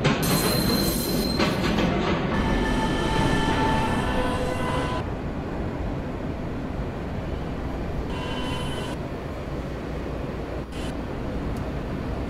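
A New York subway E train runs with a loud, continuous rumble and rail roar, bright squealing and hissing over the first few seconds and a brief screech later, steady throughout.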